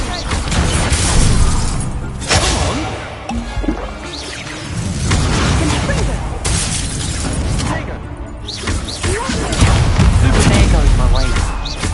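Incendio fire spell cast during Hogwarts Legacy combat, a busy run of bursting, crackling impacts and booms that repeats every few seconds under dense game effects and speech.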